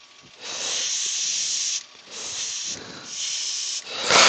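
A paint spray gun sprays colour onto a turned wooden bowl in three long, close hissing bursts with brief gaps, and a louder burst starts at the end.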